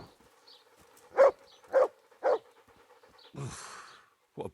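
A dog in Kingdom Come: Deliverance barks on command, three sharp evenly spaced barks close up, followed by a breathy rustle and one last short yip over quiet game ambience.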